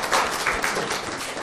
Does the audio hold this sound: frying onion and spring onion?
no